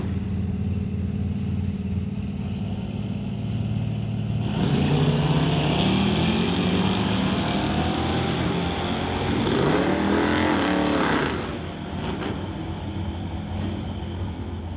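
Two drag cars, a 1969 Ford Mach 1 and a 1970 Chevrolet C10 pickup, roar off the line at a drag strip, a loud sustained engine blast building over a steady background rumble before trailing off.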